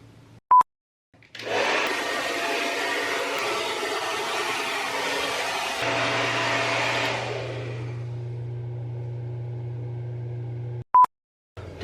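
A handheld hair dryer blows hot air late at night, a loud steady broadband whoosh that starts after a couple of faint beeps and runs for about nine seconds, its pitch dropping partway through as the setting changes, before cutting off.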